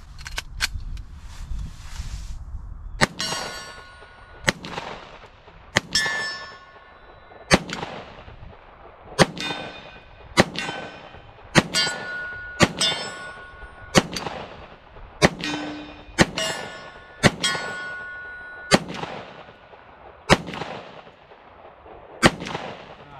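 An FNX 45 Tactical pistol fires about a dozen shots at an unhurried pace, and each shot rings a small 8-inch steel gong target with a bright clang that trails off between shots.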